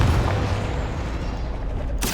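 A Confringo fire spell blast from Hogwarts Legacy: a dense, roaring burst of fiery noise that fills the whole clip, loud and sustained, with a sharper crackling flare breaking in at the very end.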